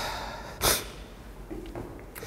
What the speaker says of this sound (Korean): 죄송해요. 계속 훌쩍해가지고.